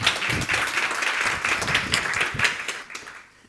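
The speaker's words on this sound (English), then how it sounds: "A round of applause, please." Audience applause at a panel session on misinformation and disinformation in the 2024 elections, a steady wash of clapping from a sizeable crowd that holds for about three seconds, then fades.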